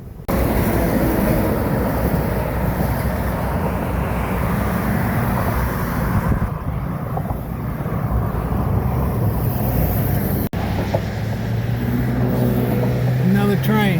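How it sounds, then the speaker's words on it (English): A train rolls past near the Appalachian Trail, a steady broad low rumble filling the whole stretch, close and loud with heavy wind buffeting, and a low humming tone coming in near the end. "Another train."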